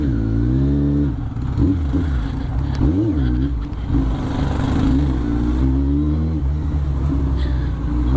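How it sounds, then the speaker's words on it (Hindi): Kawasaki Ninja motorcycle riding along, a loud close engine drone with steady harmonics that rise and dip as the throttle changes, continuous throughout with wind rush. "और अपन चल रहे हैं अपने निंजा में।"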